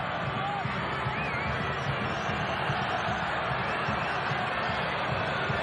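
Hometown soccer crowd in a stadium jeering a former player taking a corner kick, a dense distant roar of boos and babble under a commentator's voice.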